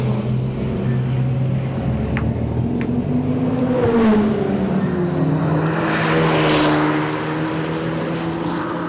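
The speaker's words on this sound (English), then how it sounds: "Let's go for a drive." A Hyundai Elantra N TCR Edition, a 2026 model, driving on a race track, its engine note rising and shifting through revs, with a whooshing pass of wind or tire noise building near the end.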